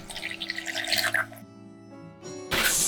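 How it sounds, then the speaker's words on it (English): Water is poured into a cup while preparing a mold-casting mix, giving a splashing, trickling pour near the start and a louder burst of liquid noise at the end, with quieter ringing tones between. "And then we pour water in the cup."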